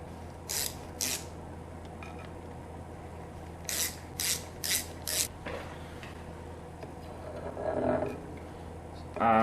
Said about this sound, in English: 3 screws that secure the starter plate here, so I'll take those off